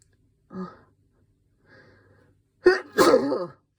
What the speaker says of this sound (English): Why is it that I feel like I sneeze now a lot when I'm doing these little videos?